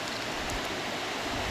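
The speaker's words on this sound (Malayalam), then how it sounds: "ഭയങ്കര മഴ ഉണ്ടല്ലോ" Heavy rain pours in a steady, dense wash of noise that stays loud and unbroken throughout, with no other sounds rising above it.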